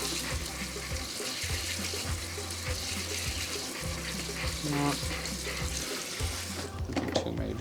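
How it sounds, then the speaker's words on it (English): A kitchen sink tap runs over asparagus in a small strainer, a steady close rush of water with spattering as the spears are rinsed, continuous and fairly loud with no talking. "bring it on over here to the sink, and put in my little strainer. Just gonna rinse it."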